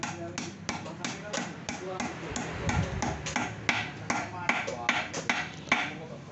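Repeated light metallic hammer taps, about two or three per second, seating a steering bearing race on a Yamaha Vixion motorcycle, in an uneven steady rhythm, close by with faint background noise.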